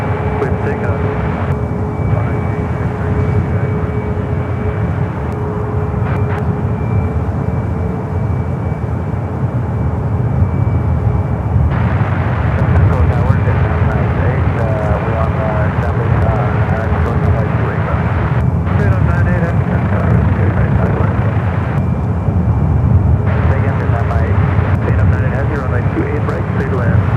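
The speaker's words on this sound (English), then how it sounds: "Vietnam A350 heading toward 28, should be here within minutes" Vietnam Airlines Airbus A350 jet arriving at San Francisco airport, a continuous low engine roar that swells slightly over time, heard from a distance with steady background noise and occasional radio-like tones.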